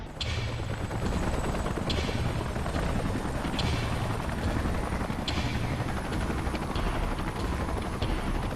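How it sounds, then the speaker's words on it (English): Salvage helicopters arrive in the video game Xenoblade Chronicles X: a loud, steady rotor roar fills the scene, with a constant high whine and a few sharp bursts of impact along the way. "Let's call in the salvage choppers and get it out of here."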